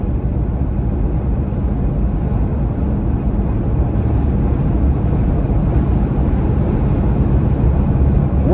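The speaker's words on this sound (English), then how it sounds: "right now it's blowing this way across the Jeep, so it's kind of a front to rear side wind." Strong side wind buffets a Jeep Gladiator parked in a fairly open area, a steady loud low rumbling roar that holds without pause and without anyone talking.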